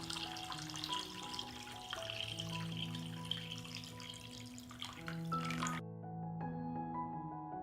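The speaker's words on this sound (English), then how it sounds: "I pour water into the pot up to the height of the lid." Water is poured into a cooking pot holding glass jars set on a cloth for pasteurization, a steady splashing pour with drips, faint and close, stopping near the end.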